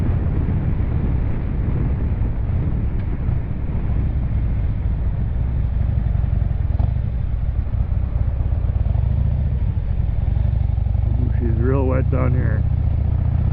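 Motorcycle riding on a wet, slippery road while dropping through the gears, a steady low engine drone with wind buffeting the microphone throughout, and a rider speaking briefly over it.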